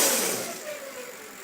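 A bicycle-mounted engine driving an alternator on test revs at full throttle, a short buzzing engine note starting loud and tapering off, heard alone.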